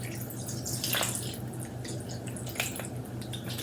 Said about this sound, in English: Some pickle juice, not the pickles, just the juice.